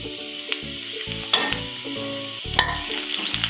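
Finely chopped garlic cloves frying in a pan for a mango and carrot white pickle, a steady close sizzle broken by a few scraping stirs of the spoon.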